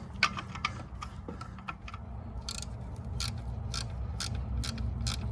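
A stubby 15 mm wrench turning an alternator bolt on a Chevy Venture, a run of faint metallic ratchet-like ticks and clicks at irregular intervals over a low background hum, with no talk.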